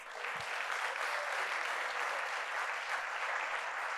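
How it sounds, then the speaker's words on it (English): Crowd of Cincinnati Public Schools staff at a back-to-school address applauds steadily, a dense, even wash of many hands clapping at once that holds for the full four seconds without speech. "If you have been with Cincinnati Public Schools at least 1 year, give yourselves a round of applause."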